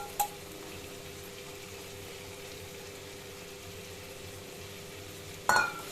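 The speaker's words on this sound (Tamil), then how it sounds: "தனியாக கூட வறுத்து போட்டு நம்ம இதிலே போட்டு நல்லா வதக்கலாம்." Tomatoes sautéing in a pan for pirandai chutney, a soft steady sizzle with low frying crackle throughout, faint and close, broken by a sharp clink of a utensil at the start and another stir-clatter near the end.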